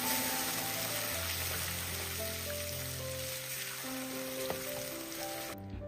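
Ground onion mix sizzling and frying in a pressure cooker as it is stirred, a steady crackling hiss with a few light scraping knocks, no voices.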